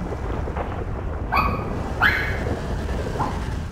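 A dog barks a few times in a home, short sharp yelps at moderate distance over a constant loud background hum.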